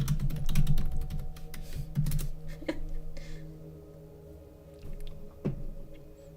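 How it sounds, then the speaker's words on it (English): Fast clicking keystrokes on a computer keyboard during a live online trivia stream, dense bursts at first then sparser taps, close and moderately loud with no talking. "I could definitely hear that typing sound, but I wanted to send something in the chat."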